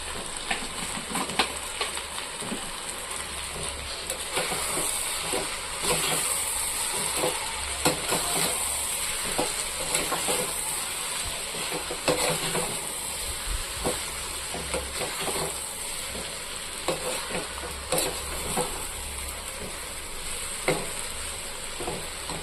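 Masala for a fried anchovy dish sizzles steadily in a frying pan on a low flame, with scattered scraping stirs at intervals.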